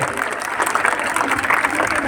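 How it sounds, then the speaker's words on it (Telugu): Loud, dense applause from a large audience, steady clapping that fills the space without a break. "ఆమె గట్టిగా చప్పట్లు కొట్టాలి, మన తరము మాతృమూర్తులు అందరూ కొట్టాలి"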